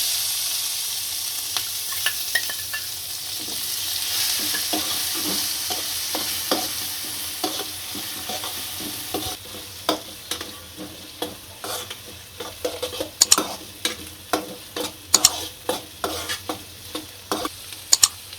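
Chili and garlic paste hits hot oil in a pan for a dhaba-style cashew masala, hissing loudly at first, then settling into a softer sizzle broken by sharp, rhythmic scraping and tapping of a spoon stirring.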